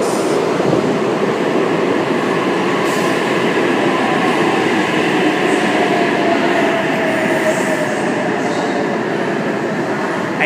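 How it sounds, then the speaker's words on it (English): A Sydney Trains Oscar set arrives at an underground Town Hall platform, a loud, steady rumble of wheels and motors with faint clatter running throughout, close and sustained. "Oscar, arriving on platform 5, Bondi Junction service"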